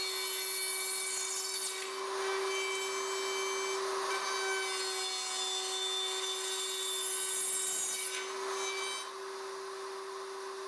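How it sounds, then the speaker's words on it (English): A wood router cuts box joints in a Leigh RTJ400 jig, tracing one template opening after another: a steady, loud, high-pitched motor whine with a rasping cutting edge that swells and eases as the bit moves through the wood. "Again, route in each template opening."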